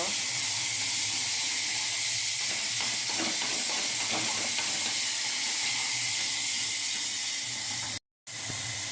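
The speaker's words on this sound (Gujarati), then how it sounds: "હવે આપણે એ તેલમાં સાતળવાનું છે। જો હવે આપણે એને સાતળી લઈશું।" Vada pav masala sautés in hot oil, giving a continuous bright hiss and sizzle with some stirring scrapes in the middle, close and steady, broken by a brief dropout near the end.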